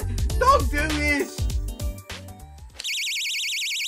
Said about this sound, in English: Tiny tugs a small gadget hang from her bag. What the hell is that?